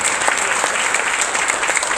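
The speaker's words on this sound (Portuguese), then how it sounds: "Só quem compreendeu aí, aplauda o nome do Senhor Jesus." A church congregation breaks into brisk, continuous applause, close and fairly loud, with bright overlapping claps and no talking.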